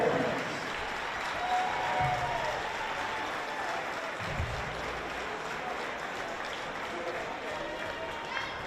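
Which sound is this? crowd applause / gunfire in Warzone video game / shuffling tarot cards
crowd applause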